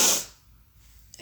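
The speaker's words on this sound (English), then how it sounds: "It feels like I'm gonna sneeze." A single close sneeze bursts out sharply at the start and fades into quiet, followed by a soft breath at the end.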